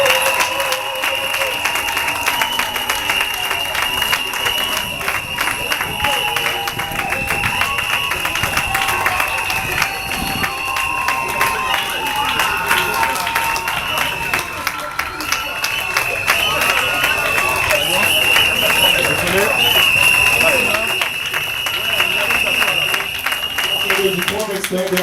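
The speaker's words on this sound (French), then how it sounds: "Sous vos acclamations, s'il vous plaît." An audience applauds and cheers steadily for a person's entrance at a ceremony, dense clapping and crowd noise sustained throughout, with an announcer's voice faintly mixed in.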